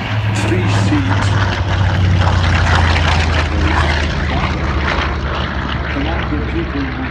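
A big three-seat Grumman Avenger propeller aircraft at an air display, its steady loud engine drone filling the scene throughout with a low hum, with a commentator's voice talking over it.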